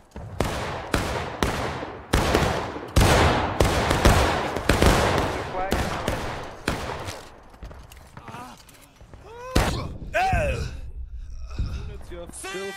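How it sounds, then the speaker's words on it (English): Rapid bursts of video-game gunfire roll out in loud, repeated volleys, then thin into scattered shots and ricochet-like whines while a voice shouts commands over the shooting. "Keep on firing, come on, division."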